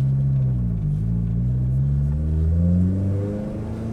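A Honda S2000 street car with a swapped K24 engine in its rear-wheel-drive chassis pulls away, its engine note rumbling and climbing as it revs through the gear, close and loud with no talk.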